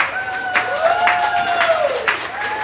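Audience clapping and cheering for a high school football team, a steady burst of applause with a rising, falling whoop-like tone riding over it, fairly loud and close.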